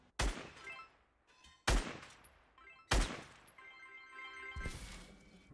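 Gunshots fired at a shooting gallery in a video game, set in Wailing Woods: three loud, sharp reports about 1.3 seconds apart, each with a ringing tail, then a rising burst of noise near the end.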